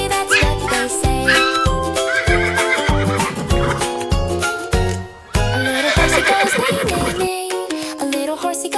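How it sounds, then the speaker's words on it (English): A cartoon-style horse neighs in a children's animal sounds song, with repeated whinnies woven through loud, steady music that plays throughout. "A little horsey goes neigh, neigh, neigh."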